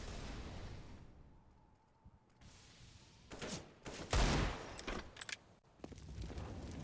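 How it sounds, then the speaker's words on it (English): Pistol fire in a Counter-Strike match on the Nuke map, with several sharp shots and bursts clustered in the latter half over a quieter background. "Shots in from Snappy."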